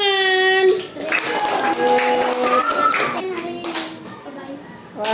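Third-grade children clap their hands together in a classroom, a burst of lively applause that fades out, with children's voices chattering over and between the claps.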